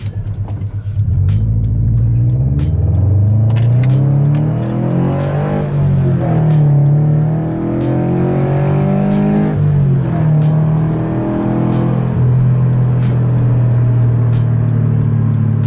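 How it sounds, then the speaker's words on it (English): A Subaru BRZ engine roars close by as it accelerates hard through several gear shifts, the pitch climbing and dropping repeatedly under a loud, throaty rumble. "Start this video off with a quick acceleration."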